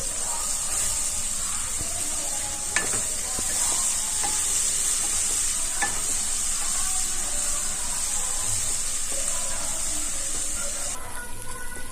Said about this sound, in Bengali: পেঁয়াজ কুচিটাও ভালো করে নাড়াচাড়া করে লাল করে ভেজে নেব।